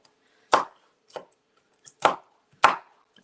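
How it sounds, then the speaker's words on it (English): Knife chopping almonds on a cutting board, four sharp, close thuds spaced roughly half a second apart, with near silence between strikes. "So we're just chopping up our almonds"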